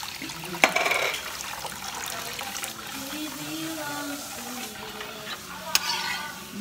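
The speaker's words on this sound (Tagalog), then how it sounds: "Mix lang muna bago mo ilagay sa fire." Evaporated milk mixture for Filipino maja blanca coconut pudding is stirred in a pot, a close, liquid swishing with a couple of sharp utensil knocks against the container.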